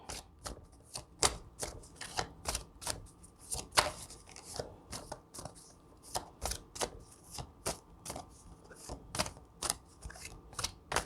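Tarot cards shuffled and drawn, a steady run of sharp papery snaps and flicks repeating about twice a second, close and crisp with no talk.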